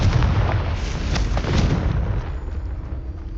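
Confringo fire-spell blasts in Hogwarts Legacy: a loud, continuous booming roar of explosions that rumbles heavily, then thins into a fading rush, with no voices.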